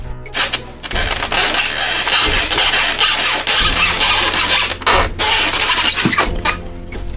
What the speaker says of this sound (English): So I went back to using the knife, which was noisy.